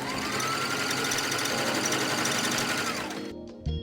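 A sewing machine runs loud and steady, stitching over an existing hem seam on fabric for a DIY boot cover, its fast mechanical whir continuing for several seconds before stopping abruptly, followed by a couple of faint clicks.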